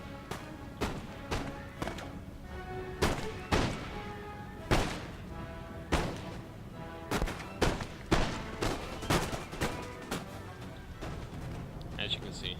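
Musket volleys in the Empire: Total War video game, a rapid series of sharp cracking shots, some single and some in ragged clusters, loud and close over a low battlefield rumble, with someone talking over them.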